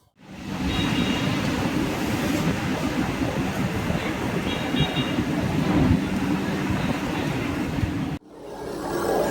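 Inside a second sitting coach of the 12605 Pallavan Superfast Express from Chennai Egmore, the train runs with a continuous loud low rumble and rattle at close range, broken by a sharp cut near the end before the noise resumes.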